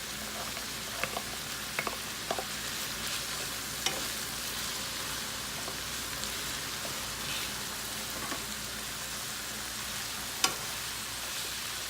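Garlic and scallions frying steadily in a pot, a dense continuous sizzle with scattered small pops and crackles, close and fairly even throughout, no talking.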